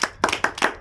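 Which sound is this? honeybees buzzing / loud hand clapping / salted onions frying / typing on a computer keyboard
loud hand clapping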